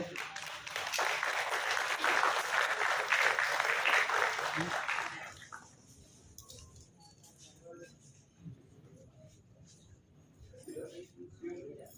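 Loud audience applause at a women's empowerment award ceremony in Delhi, a burst of dense clapping lasting about five seconds, then quieter room sounds and someone speaking.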